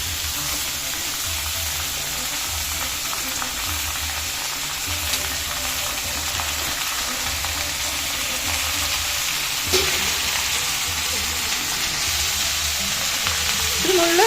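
Shallots, garlic and chopped pineapple fry in a pan, a loud constant sizzle up close, with a brief stir or clink of a utensil near the end.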